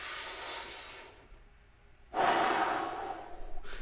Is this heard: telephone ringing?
no